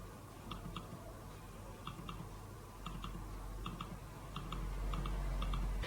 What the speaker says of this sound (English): if we listen carefully, we should hear the clicking noises, which are all equal no matter where we click on the trackpad.